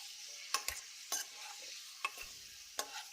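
Egg fries in oil in a pan for a dhaba-style egg gravy, a faint soft sizzle underneath sharp clinks and scrapes of a spatula stirring at irregular intervals.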